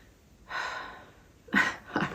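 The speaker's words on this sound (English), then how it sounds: "I always breathe when I pull this card. Breathe into the situation." Three deep breaths, close and alone: a long drawn inhale, a pause, then two shorter, louder breaths in quick succession.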